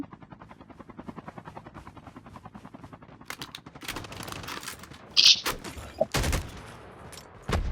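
Gunfire in a Call of Duty battle royale team match rings out over a helicopter's rhythmic rotor thump, with several sharp close shots in the second half.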